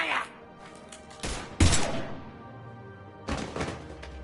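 Bursts of gunfire from the Mass Effect 3 video game, a few loud sharp blasts with thuds in between, close and punchy, separated by short pauses.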